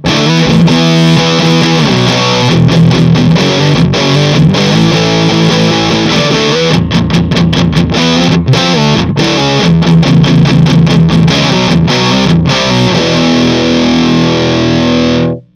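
A heavily distorted electric guitar through a Mesa/Boogie JP2C+ tube amp with V-shaped EQ plays chugging riffs and chords, loud and thick with boomy lows and bright highs, continuous and unaccompanied.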